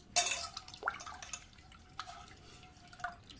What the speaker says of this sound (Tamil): தண்ணி நல்லா தாராளமாக ஊற்றிக்கலாம்.